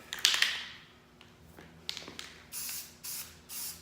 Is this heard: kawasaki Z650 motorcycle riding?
no